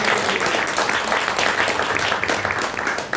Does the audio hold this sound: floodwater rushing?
no